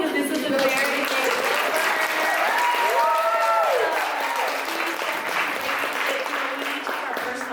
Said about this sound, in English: I just want us all to just acknowledge her and clap for her